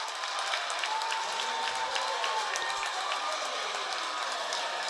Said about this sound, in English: And Ethan Weiner, as the crowd roars in applause